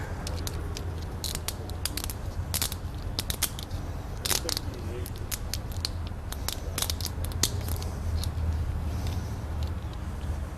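Wire cutters snip a trailer breakaway switch's ground wire in a series of sharp, crisp clicks and snaps, scattered irregularly over a low, steady background hum.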